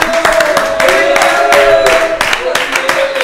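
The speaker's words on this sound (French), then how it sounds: "On les applaudit." Clapping hands and cheering from a youth club group applauding their three coaches, steady and fairly loud over a continuous murmur of voices, with a few sharper claps standing out.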